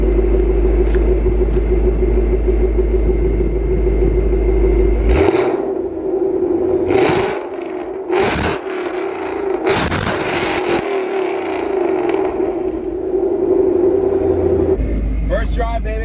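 A Ford Mustang with a Procharger supercharger on its first drive gives a steady low engine drone and rumble from inside the cabin, broken by several loud bursts and scrapes, with someone talking over it.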